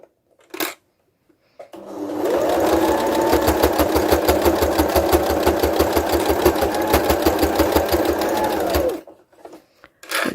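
A sewing machine stitches a fabric face covering in one sustained run of rapid, even needle strokes for about seven seconds, close and loud, with a brief whir just before it starts and quiet handling afterward.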